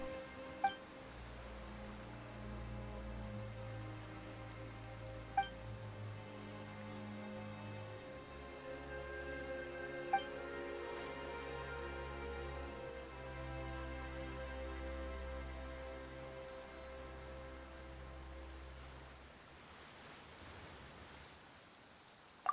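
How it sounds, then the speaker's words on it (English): Steady rain falls in a Genshin Impact storyline scene, a continuous wash of patter under a low droning game score, with a few faint sharp ticks scattered through before the sound thins out near the end. "Why is it raining all of a sudden?"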